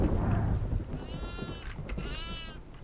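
Goats bleating in the horror game Devour, with two wavering cries one after the other over a low rumbling game background, with no talk.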